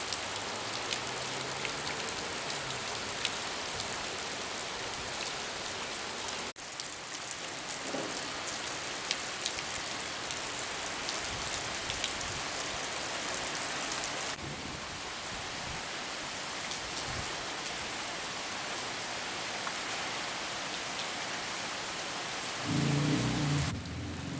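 Heavy rain pours steadily during flooding in Sintang, a dense continuous hiss of drops on surfaces lasting throughout, with a few faint low rumbles beneath and no voices.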